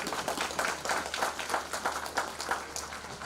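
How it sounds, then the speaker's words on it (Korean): Crowd applause at a Hamyang football community evening event, a sustained mid-level wash of many hands clapping with a rhythmic pulse, heard from across an indoor hall. "전부 박수 한번 쳐봐요"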